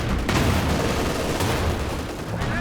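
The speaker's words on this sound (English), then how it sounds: "Oh, the Katyusha barrage, big damage." Katyusha rocket barrage in the video game Company of Heroes 2: a steady, heavy roar of rockets and explosions that fills the whole short stretch, loud and continuous with rumbling booms under a harsh crackle.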